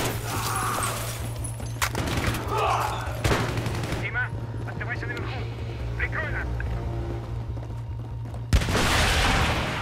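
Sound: gunfire in the video game Battlefield 3

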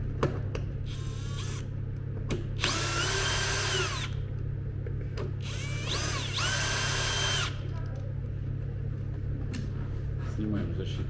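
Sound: power screwdriver unscrewing a screw on a MET Explorer scooter

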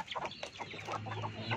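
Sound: kampung chickens clucking

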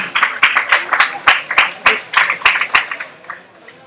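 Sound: audience applause for a powerlifter

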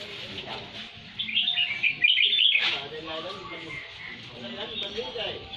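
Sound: red-whiskered bulbul birds chirping while flying free

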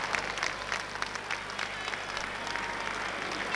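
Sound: crowd applauding at hurling match half time

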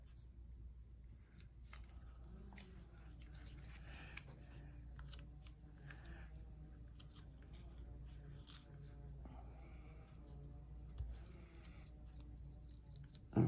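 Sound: scissors fussy cutting a paper tag

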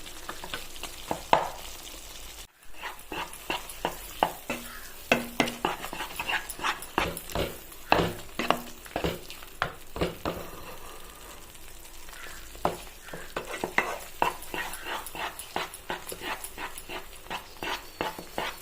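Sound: stirring a rice dish in a pan

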